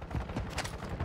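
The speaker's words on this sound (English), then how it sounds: "Stray mortar." Stray mortar rounds in the Warzone battle royale video game, a quick cluster of muffled blasts and crackling impacts at moderate volume, heard briefly with no talking over them.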